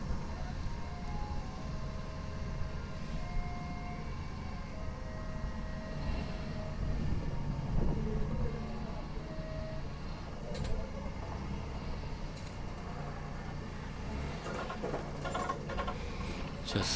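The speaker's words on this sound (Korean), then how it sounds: "이 와중에도 계속 차들은 많이 다니죠." Steady roar of heavy road traffic with many cars passing continuously near a roadside deck-removal and forklift work site, broadband rumble rising and falling through the whole stretch.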